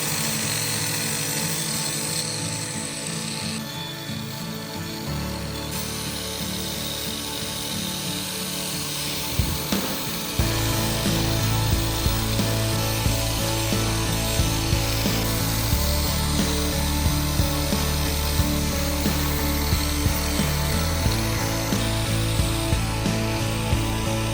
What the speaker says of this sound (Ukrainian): Мінімізуємо сколи на плитці з допомогою круга шліфувального для керамічної плитки